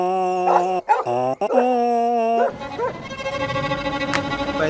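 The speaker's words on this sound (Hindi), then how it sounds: "पहले नहीं बता सकता था रॉकी कुत्ता है?" A dog barks and gives drawn-out whining yelps in a few close, loud bursts, followed by a noisier stretch of yipping.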